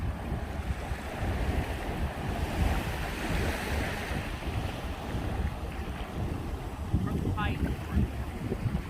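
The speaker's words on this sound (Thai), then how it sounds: "นี่นะคะบรรยากาศรอบๆทะเล" Sea waves wash onto a beach, a steady rushing surf with wind noise buffeting the microphone, loud and continuous, with a short faint chirp near the end.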